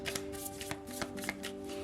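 Tarot cards shuffled by hand at close range, giving a quiet, continuous papery riffle with small taps and flicks throughout.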